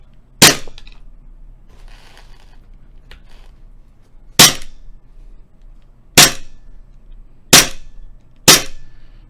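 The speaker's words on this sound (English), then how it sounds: "I have a little box here that I'll just go ahead and fire into, and we'll see what the blowback action is like on this" A Glock 17 CO2 BB air pistol with blowback action fires into a box, giving five sharp, loud cracks, one early and four spaced over the second half, with quiet handling between shots and no talking.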